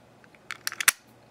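An Era 5-lever padlock being worked with its key: a quick run of small, close metallic clicks and a final sharper snap, heard alone in a quiet room.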